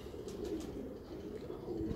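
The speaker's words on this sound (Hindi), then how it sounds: "आज जो हम आपके लिए कबूतर लेके आए हैं, आप देख सकते हैं काला पेयर है" A black pair of Madrasi pigeons cooing softly nearby, a few low throaty coos repeating over quiet background.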